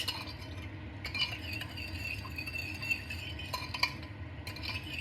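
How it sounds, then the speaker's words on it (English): Spoon stirring a sweet and sour garlic sauce for short ribs in a bowl until the sugar dissolves, with soft continuous swishing and a few light clinks of utensil against the dish. "let's mix this up first until the sugar dissolves"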